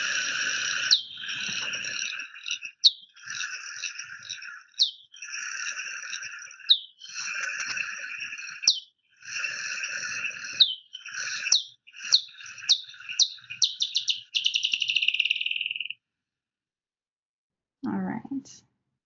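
Bat echolocation calls slowed to one-eighth speed, turning into a long series of chirping, bird-like warbles and sweeps that run in bursts for about fifteen seconds, then stop, followed by a short lower sound near the end.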